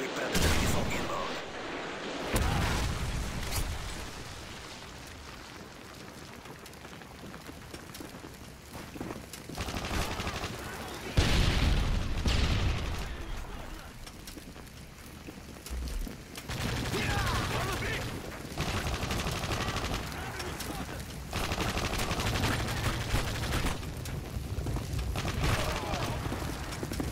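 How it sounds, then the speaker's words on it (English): Heavy explosions and gunfire from a Call of Duty: Modern Warfare 3 multiplayer match, with booming Predator missile and airstrike blasts rolling through continuous battle noise, and a voice calling out over the action. "Friendly Predator missile inbound."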